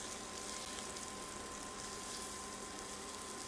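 Chicken frying in a pan for a chicken Parmesan casserole gives a steady, close, even hiss of sizzling oil, continuous and without talk.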